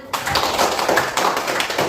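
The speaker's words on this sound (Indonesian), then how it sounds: "Tepuk tangan" A classroom of students clapping their hands in a quick, patterned rhythm, close and fairly loud, the claps bunched into short bursts that run for a couple of seconds.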